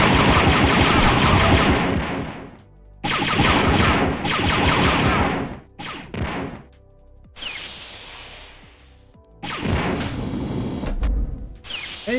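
Rapid blaster gunfire in the shooter game Dark Forces Remaster comes in loud, dense bursts broken by short gaps, with a swishing mechanical stretch between volleys.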